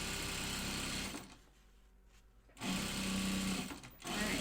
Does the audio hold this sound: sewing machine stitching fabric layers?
yes